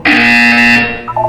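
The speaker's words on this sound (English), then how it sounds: "You will hear a buzzer." A loud, harsh electronic buzzer from the Portal 2 video game blares as one sustained tone for about a second, then gives way to a short, softer chiming tail.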